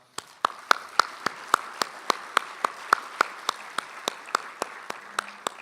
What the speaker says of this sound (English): I'd like to give Robert one more round of applause.